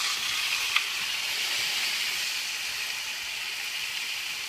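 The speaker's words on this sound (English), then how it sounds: "what you're listening for is that big searing noise that you get" Flank steak sears in a hot pan with a steady, broad hiss that stays even throughout. There is one brief tick near the start.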